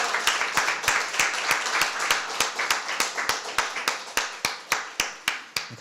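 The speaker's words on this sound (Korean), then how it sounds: "크게 박수 한번 치면 좋겠습니다" A church congregation at an Easter service claps in a steady, even rhythm of evenly spaced sharp hand claps, fairly close, continuing for several seconds with no talk.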